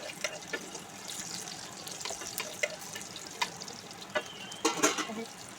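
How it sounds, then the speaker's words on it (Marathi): Curry leaves and garlic spit in hot oil, a crackling sizzle broken by sharp scrapes and clinks of a spoon against the pan. "तेल गरम झालं त्याच्यामध्ये थोडंसं कढीपत्ता टाकते. कढीपत्ता झाला त्याच्यात थोडंसं लसूण टाकून घेऊ."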